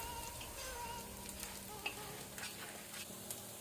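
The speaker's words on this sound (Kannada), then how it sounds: "ಸ್ವಲ್ಪ ಅಕ್ಕಿಯನ್ನು ನಾವು ಮೀಡಿಯಂ ಫ್ಲೇಮಲ್ಲಿ ಫ್ರೈ ಮಾಡ್ಕೊಂಡು ನಿಧಾನಕ್ಕೆ," Rice for ghee rice fries slowly in a pan over a medium flame, a close, gentle sizzle broken by occasional scraping stir clicks, with no talking.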